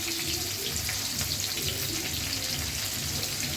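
Onions go into a pan where fish is frying in plenty of its own oil for a fish bhuna, producing a steady, close crackling sizzle that continues evenly without talk.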